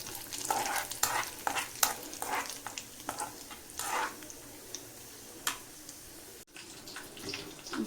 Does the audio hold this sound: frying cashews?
yes